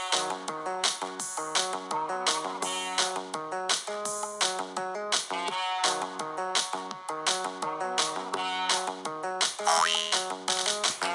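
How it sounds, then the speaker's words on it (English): A springy cartoon boing effect, added to a stop-motion animation, repeats in quick, bright bursts with a bouncy rhythm, loud and alone with no talking. "I'm going to go with the third boing."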